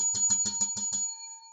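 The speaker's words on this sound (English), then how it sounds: "I ring the bell for you" A bicycle bell rings in a quick series of about seven bright, evenly spaced dings, loud and close, then a sustained tone hangs and fades with no talking.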